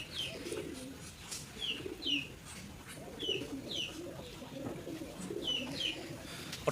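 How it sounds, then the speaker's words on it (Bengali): Racing homer pigeons coo repeatedly in soft, rolling bursts, with a few higher chirps mixed in, fairly close and moderately loud over a quiet background. "কালেকশন করা কবুতর এই যে দেখতে পাচ্ছেন"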